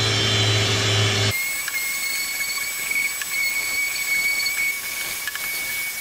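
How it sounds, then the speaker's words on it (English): A power sander runs steadily on wooden frame pieces while logos are sanded away, a loud grinding whine that starts abruptly and holds nearly constant with faint tonal hum. "Now's a good time to sand out any logos that might be on the inside or outside before you get everything together"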